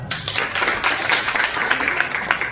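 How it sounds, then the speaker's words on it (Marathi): A kirtan audience claps in a steady, continuous burst of many hands, dense and fairly loud for a couple of seconds with no voices over it. "यांच्यासाठी फक्त एकदा टाळ्या वाजवल्या"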